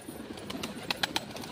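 Hen pigeons and tumbler-type pigeons coo nearby, a few soft low calls followed by three short sharper bursts, with no talking.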